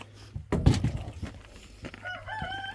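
A rooster crows faintly at a distance in a quiet outdoor setting, following a brief soft thump nearby.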